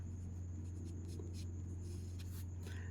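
Pen scratching steadily on paper while a handwritten maths problem is worked out, faint and close, set against a constant low electrical hum with no talking.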